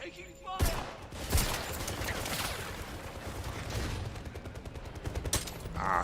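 Dense video-game gunfire, rapid bursts and volleys of shots rattling continuously for several seconds with sharp louder cracks near the start, at moderate level with no clear talk.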